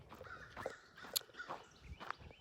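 Crows caw a few times on a quiet outdoor morning, sharp calls spaced out against faint background hush, moderately distant.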